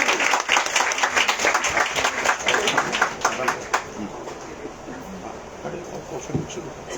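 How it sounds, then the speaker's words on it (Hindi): A congregation at a Sunday worship service in a gospel centre claps loudly and briskly for two people, the applause strong for a few seconds before tapering off into a quieter room tone with faint sounds. "मैं चाहता हूँ इन दोनों के लिए जोर से तालियां बजाया जाए।"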